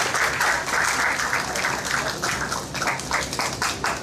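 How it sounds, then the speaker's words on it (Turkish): Dense, steady applause from a crowd at an engagement ceremony in Denizli fills the whole stretch at close range, with many hands clapping at once. "Alkış."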